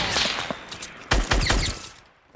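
Rapid bursts of gunfire in the video game Fortnite ring out as shots hit an opponent, a dense volley near the start followed by a louder, closer cluster of cracks before fading out.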